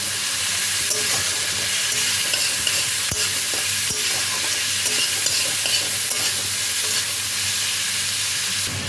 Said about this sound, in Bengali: এবার সব কিছু দিয়ে ভালো করে খানিকক্ষণ ভাজতে হবে।